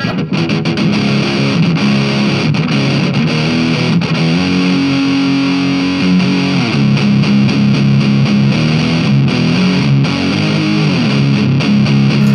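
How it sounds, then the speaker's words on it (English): Heavily distorted electric guitar through a cheap distortion pedal plays continuously and loudly, thick sustained chords and notes shifting throughout with no talking. "it almost seems more like distortion than fuzz"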